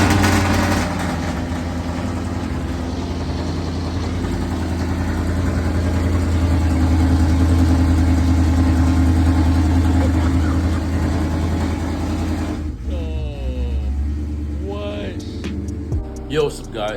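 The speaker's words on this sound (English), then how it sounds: "Cold start in the supercharged RCF." A supercharged Lexus RC F V8 engine on a cold start, running at a loud, steady high idle with a deep droning hum, then dropping away near the end as other noises and a voice come in.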